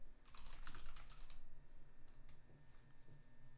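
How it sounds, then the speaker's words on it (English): Fingers tap a computer keyboard, mostly on the backspace key, in a rapid burst of clicks followed by scattered single keystrokes, close up and moderately quiet. "This is why most of what you hear when I'm typing is actually just backspaces."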